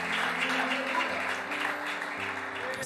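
A church congregation applauds together, a steady broad wash of clapping sustained throughout, with a low musical hum underneath.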